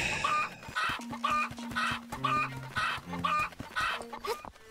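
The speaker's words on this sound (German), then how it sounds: "Hier ist noch ein Huhn." Chickens clucking in the video game Zelda: Echoes of Wisdom, a string of repeated clucks and short fowl calls over game background music, fairly close and clear with no talking.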